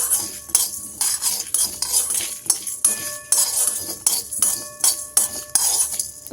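Whole spices including dried chili are lightly fried in a pan while a metal spoon stirs them, making regular scraping strokes with clinks against the pan, close and clear with a soft sizzle underneath.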